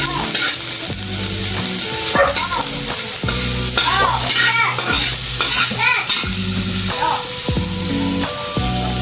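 Garlic and onion sautéing in a hot pan, a steady loud sizzle with repeated scraping stirs throughout, no voices.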